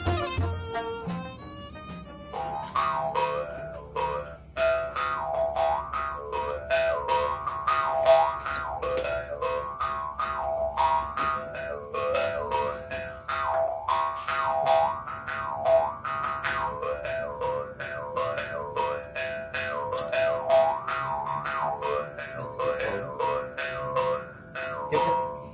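A kuriding, the Banjar bamboo mouth harp, played alone in a steady, bouncing rhythm of twangy, buzzing plucks whose resonant tone wobbles up and down, fairly close and even in loudness throughout.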